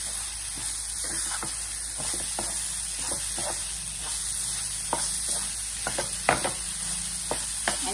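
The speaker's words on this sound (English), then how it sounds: "we have to cook this moong dal till it becomes like golden in color" Moong dal fries in a pan for kachori filling, a constant hissing sizzle overlaid with scattered scraping strokes from stirring, steady and close throughout.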